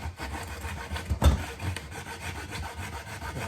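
A hacksaw cuts through kiln brick with close, rasping back-and-forth strokes at a steady rhythm, and one stroke snags with a heavier knock.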